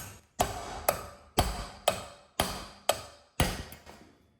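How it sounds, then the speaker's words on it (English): Seven sharp metallic hammer strikes on a 168F diesel engine's flywheel to knock it loose land at a steady, even pace, each ringing briefly before the next blow. "you're gonna smack it with a hammer"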